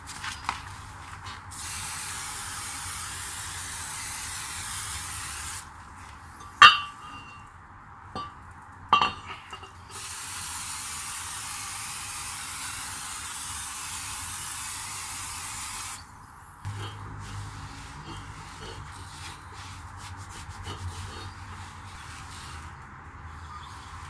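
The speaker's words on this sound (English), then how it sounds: "You gotta remove that film with some brake cleaner." Brake cleaner sprays onto new front brake rotors during a BMW E30 318i brake upgrade in two long, steady hissing bursts. Between them come a few metallic clinks and quieter pauses.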